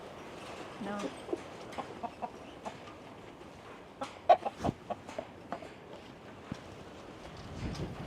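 Chickens cluck in short scattered bursts outdoors on a windy day, near and fairly faint, under a low background hiss.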